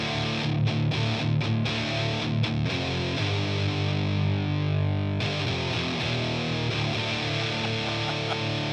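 An electric guitar played through a Boss DS-1 distortion pedal with the distortion turned all the way up gives thick, saturated chords and sustained notes, loud and buzzing, with a few choppy strums before longer ringing passages.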